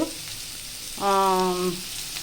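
Spices sizzle in a pan for carrot curry, a steady close frying hiss that continues throughout while a voice briefly speaks over it.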